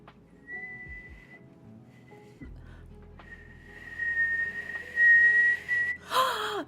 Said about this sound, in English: This is me learning how to whistle.